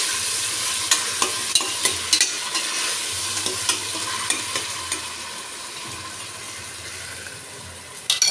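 Ginger garlic paste frying in hot oil for a Kokni-style mutton salan, with a continuous loud hiss and sizzle and a series of short clinking stir strokes at an uneven pace, close up with no talking.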